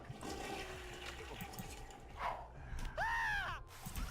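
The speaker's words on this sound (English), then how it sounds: "Why do you want to go to the toilet?" Toilet flushing in The Sims 2, a gurgling rush of water swirling near the listener, with a crow-like squawk near the end and no talking.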